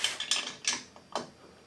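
A hex key Allen wrench loosens bolts on the light bar mount of a Honda Pioneer 1000, giving a few quick metallic clicks and ticks, close and fairly quiet.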